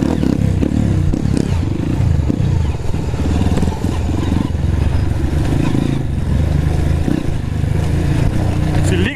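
Trail motorcycle riding off-road on a dirt track, its engine droning continuously with clattering and scraping over rough ground, loud and close throughout.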